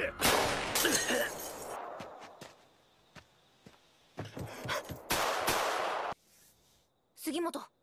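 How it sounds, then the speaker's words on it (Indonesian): Gunfire in an anime shootout: loud bursts of shots and sharp cracks come in irregular clusters, mixed with scattered clicks and thumps, broken by short quiet gaps. "Sugimoto dan Ogata lekas masuk ke dalam, yang di sini mereka mulai beradu tembak"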